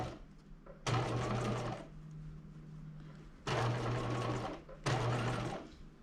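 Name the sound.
sewing machine stitching a top near the zipper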